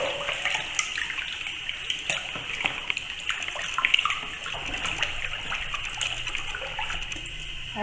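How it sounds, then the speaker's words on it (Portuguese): Household alcohol is poured into a basin of water holding corn starch, making a steady, close splashing trickle that runs for several seconds with no speech. "Vou colocar 150 ml de álcool."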